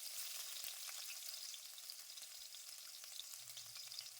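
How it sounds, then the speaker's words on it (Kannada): Crushed garlic and popped mustard seeds sizzling in hot oil for a chutney tadka, a steady close hiss with faint crackles throughout and no voices. "ಸಾಸಿವೆ ಸಿಡಿದಾದ ನಂತರ ಒಂದು ಗಡ್ಡೆಯಷ್ಟು ಬೆಳ್ಳುಳ್ಳಿನ ಜಜ್ಜಿ ಹಾಕ್ಕೊಳ್ತೇನೆ"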